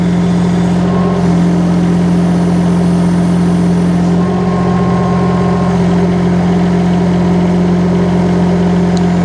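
A mini excavator's engine idles at about 30% revs, giving a steady, loud, even diesel drone with a constant low hum and no breaks.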